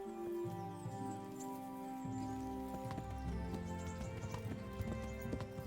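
A horse's hooves clip-clop in Kingdom Come: Deliverance, a moderate run of irregular hoof strikes over a musical game soundtrack.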